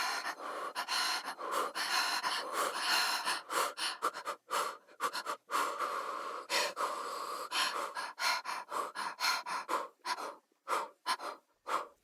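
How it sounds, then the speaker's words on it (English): Breathy vocal effects from a vocal sample library: a string of short sharp inhales, gasps and whispered exhalations, close and dry, broken by brief silences and with no singing. "Right, breath and whispers."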